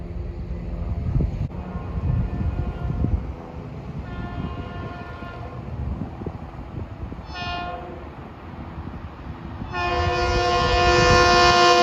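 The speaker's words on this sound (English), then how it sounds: "here comes train eastbound, 1960" An eastbound LIRR M7 electric commuter train, a Penn Station to Ronkonkoma local, passes Pinelawn without stopping. It rumbles and clatters up close, sounds two horn blasts, and ends on a long sustained horn.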